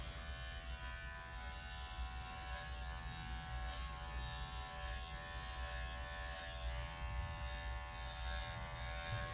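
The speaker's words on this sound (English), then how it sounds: "Under her tail and for her belly, I am using the 7F blade on the Schoenbau digital clipper." A Schoenbau digital dog clipper fitted with a 7F blade trims the belly and under-tail fur of a Shih Tzu Bichon mix, giving a steady, close electric buzz with a faint hum that runs evenly throughout, with no voices.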